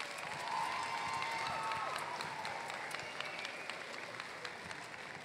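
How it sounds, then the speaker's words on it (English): A choral festival audience gives another round of applause for a choir. Sustained clapping from a sizeable crowd sounds moderately distant and soft, with scattered individual claps and faint cheering mixed in. "Maybe another round of applause."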